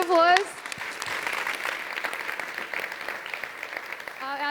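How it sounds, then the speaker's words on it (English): Audience applause at a startup pitch competition event, steady clapping from a crowd filling the room, with a brief voice at the start and end. "Give a round of applause."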